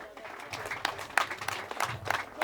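Guests at a village wedding in Rwanda clap their hands in a brisk, uneven patter of claps mixed with people talking nearby.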